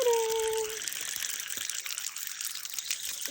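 Spring water gushes and splashes steadily from a natural spring on a jungle hillside, close and continuous after a short high tone at the start, with a faint voice underneath.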